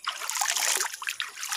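Clear river water in Samarinda, a close bubbling trickle with small splashes and gurgles, continuous and fairly loud over the brief stretch.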